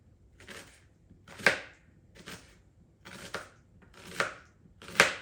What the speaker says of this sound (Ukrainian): Нарізаємо її тоненько пів кільцями.